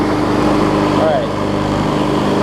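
A Scotts push mower with a Briggs Quantum engine runs loudly and steadily up close, its low chugging drone continuous, with a voice speaking over it.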